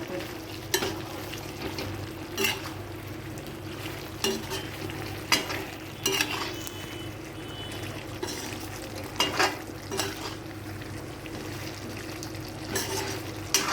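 Mughlai chicken being stirred and roasted in a pan, a steady sizzle of frying running throughout, broken by sharp scraping clanks of the spoon against the metal at irregular intervals.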